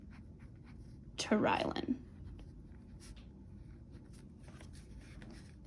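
A pen writing an address on a paper envelope, heard as faint, intermittent scratchy strokes close by after a brief spoken phrase.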